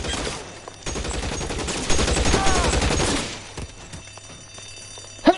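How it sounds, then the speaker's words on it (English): Rapid suppressing gunfire in an LA Noire shootout, a dense, loud burst of rattling shots lasting a few seconds before fading to quieter sounds and a final sharp crack. "I'll lay down some suppression fire"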